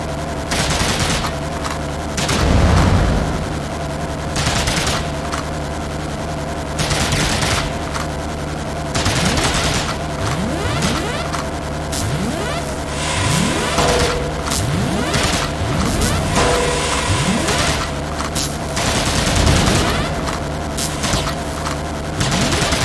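Rapid bursts of gunfire from guns mounted on a van in the video game Horace, firing in repeated volleys with booming hits over a steady game soundtrack.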